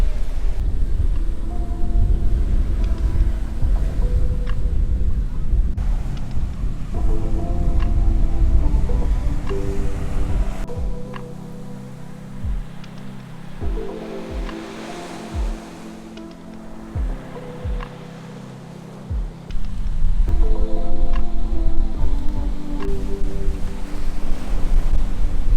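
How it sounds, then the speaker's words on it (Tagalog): Strong ocean waves roll and crash at a Boracay beach as gusting wind buffets the microphone. The surf surges and recedes several times, loud and close, with no voices. "Sobrang lakas ng waves."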